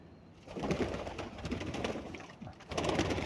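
Pigeons cooing in a loft where birds are kept and released, soft repeated throaty coos close by with rustling and movement, no talk.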